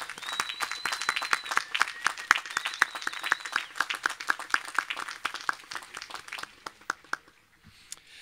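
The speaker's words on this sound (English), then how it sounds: "let's give a round of our applause for our law school graduates" Graduation audience at a spring commencement ceremony applauds law school graduates, a dense patter of many hands clapping with a few cheers, thinning toward the end into scattered claps.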